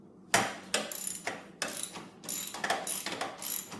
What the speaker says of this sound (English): So I'm going to first start off by taking this front bolt out,